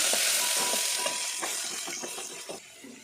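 Mustard seeds, dried chillies, curry leaves, crushed garlic and chopped onion sautéing in oil in a pan, a steady close sizzle with soft stirring scrapes at intervals.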